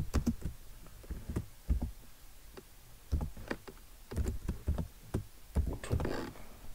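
Someone types on a computer keyboard while setting up trading software, with close, crisp key clicks coming in uneven quick bursts and short pauses between them. No voice is heard.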